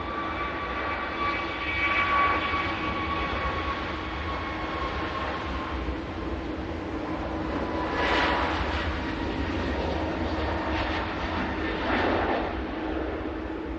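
A Greenliner airliner rolls past the control tower at Manchester Airport, its engine roar steady and loud throughout, with a high whine running over the broad rumble.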